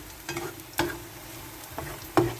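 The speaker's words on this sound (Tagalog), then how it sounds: "Gisa-gisa lang natin para matanggal yung kanyang" Garlic, ginger and onion sautéing in a pan for a baby bok choy and abalone dish, with a quiet sizzle under a few sharp stirring scrapes and utensil clicks.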